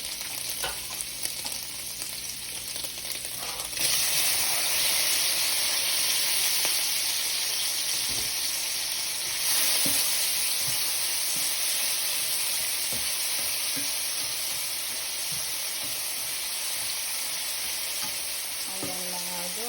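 Tomatoes sizzle and fry in a hot pan after browning, a steady crackling hiss with occasional stirring scrapes, loud and close throughout with no talking.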